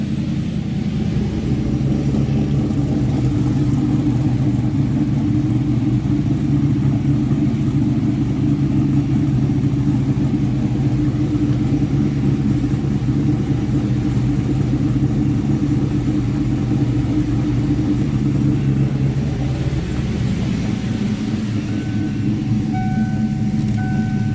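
A Procharged 1998 Ford Mustang Cobra engine holds a steady, rich-running high idle, a continuous loud droning rumble with a slight pitch shift near the end, no voices over it.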